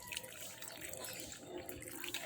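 Water splashes steadily and continuously onto bonsai soil in a short, close burst of broadband pouring noise, with no talking.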